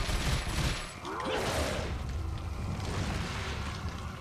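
Gunfire in the video game Resident Evil 4, a burst of shots at the start and another around one second, set against a continuous rumbling game backdrop, fairly quiet overall.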